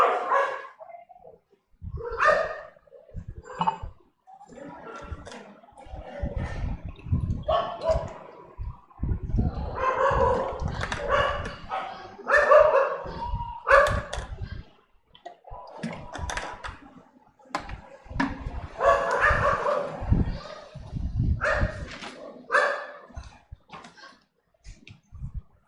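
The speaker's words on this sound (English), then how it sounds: "So the dogs are here actually doing a meeting on coronavirus." Dogs bark over and over in uneven bursts for about 25 seconds, loud and close, with some keyboard-like clicking mixed in.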